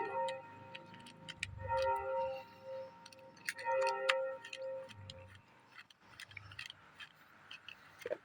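Bolts being tightened on an electric fan's bearing: a run of small, close metallic clicks and ratcheting ticks in irregular bursts with short pauses, fairly quiet.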